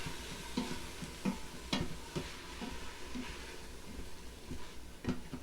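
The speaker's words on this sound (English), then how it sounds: "I love that sizzling sound that it makes when the water goes in there." Water hits a sautéing red lentil sweet potato curry in a pan, setting off a steady soft sizzle punctuated by quiet, repeated stirring scrapes.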